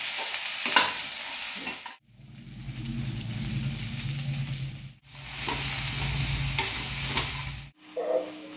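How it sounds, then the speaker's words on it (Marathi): Okra being fried and stirred into a spice tempering in a pan, a steady loud sizzle broken by a few short pauses as the pan is stirred, no voices. "हे सगळं मिश्रण चांगलं तळून घ्यायचं आहे, चांगली फोडणी त्याला बसली पाहिजे आणि त्यानंतर मग आपल्याला भेंडी घालून घ्यायची आहे"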